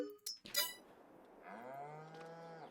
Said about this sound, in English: Let's just add some cows.